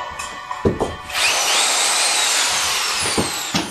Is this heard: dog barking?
no